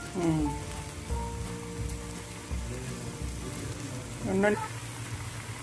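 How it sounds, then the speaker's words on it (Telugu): Cauliflower pieces coated for Gobi 65 drop into hot oil and fry with a steady bubbling sizzle, with a few louder spits as more pieces go in. "ఇలా నూనెకి సరిపడగా ముక్కలన్నీ వేసుకుని వేయించుకుందాం."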